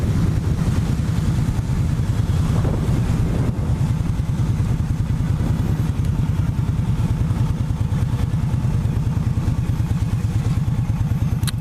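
A 2017 Indian Scout motorcycle engine drones loud and steady while heavy wind roars past a rider above 50 mph, a continuous close rumble with no pauses or talking.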